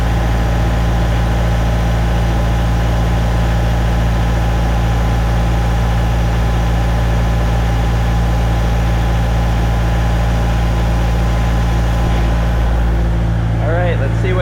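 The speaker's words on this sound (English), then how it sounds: "They hook up to a big air compressor like this 185 CFM" A big 185 CFM air compressor runs on a farm, a steady, loud low-pitched engine drone with a constant hum that continues unchanged throughout, with a faint voice near the end.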